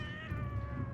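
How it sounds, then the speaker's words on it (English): Wild cat yowls from the Animal Well video game, a single drawn-out meow with steady tonal harmonics lasting about a second, clear and close over a low game background rumble. "Wild cat noises."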